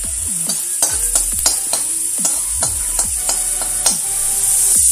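Dry red chillies frying in a little hot oil with fennel seeds for a Bengali pabda fish dish, a close, loud sizzle with repeated sharp scraping stirs of the spatula against the pan.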